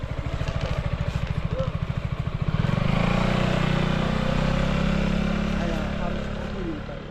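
A motorcycle engine idles with a steady low putter in Bali, then revs up and holds a louder droning rumble, fairly close.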